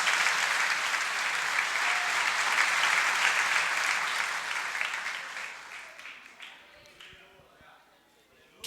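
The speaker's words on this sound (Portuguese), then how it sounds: "Aplauda Jesus." A church congregation applauds in sustained dense clapping that holds steady for several seconds, then thins and fades toward the end, leaving scattered claps.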